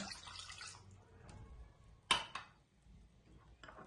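Water goes into a bowl of bread dough ingredients for homemade hamburger buns: a faint, brief pour followed by a few sharp clinks of the bowl, in a quiet kitchen.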